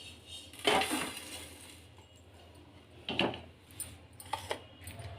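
Roasted whole spices, coriander seeds, black cumin, cumin and black cardamom, scraped onto a plate with a few clinks and clatters of utensil on dish, close and alone in a quiet kitchen.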